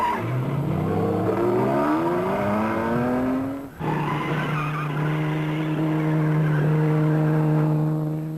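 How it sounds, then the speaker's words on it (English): A Jaguar race car in the Mille Miglia road race roars past up close, its engine note climbing through gears, then holding a loud, steady high drone after a brief dip, with a hint of tyre squeal. "2 minutes behind is Stirling Moss in his Jaguar"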